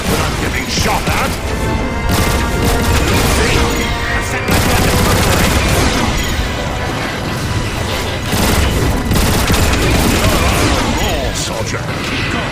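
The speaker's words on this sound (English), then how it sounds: "I can't work when I'm getting shot at!" Dense gunfire and explosions from the video game Transformers: War for Cybertron, loud and continuous bursts of shots and booms with little pause, a battle soundscape with a voice speaking briefly over the din.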